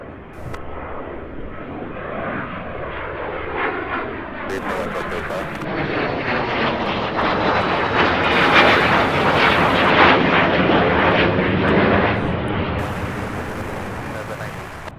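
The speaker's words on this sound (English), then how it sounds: "We have a 757 absolutely boogieing down the taxiway here." A Boeing 757 jet rolls fast down an airport taxiway, its engines giving a loud, steady roar that builds toward the middle and then holds, close by and continuous.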